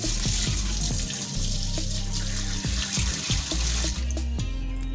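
Water runs steadily from a tap into a sink, a continuous close rushing flow with a low vibrating hum and a few faint knocks throughout.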